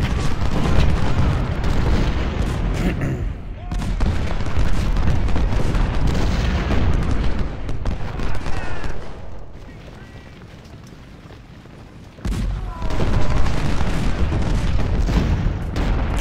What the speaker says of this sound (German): Die Kanonen schießen noch, sie sind motiviert